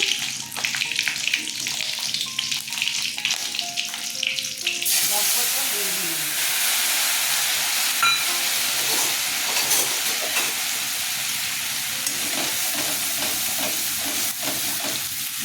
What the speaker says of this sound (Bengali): সর্ষের তেল দিয়ে দিলাম গরম হয়ে গেছে কাঁচা লঙ্কা কালো জিরা ফোড়ন দিলাম